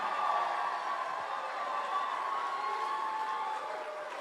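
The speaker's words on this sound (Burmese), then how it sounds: "Okay winner အတွက်လက်ခုပ်တံအကျယ်ဆုံး" Crowd applause and cheering for the winner of the Myanmar Star Season 2 grand final, a steady dense roar that holds loud and even throughout and dips slightly at the end.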